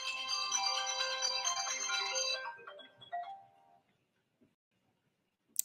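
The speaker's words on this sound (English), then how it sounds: "The phone is ringing." A phone ringtone plays a bright repeating melodic pattern for about two seconds, loud and close, then cuts off and trails into near silence with a couple of faint clicks.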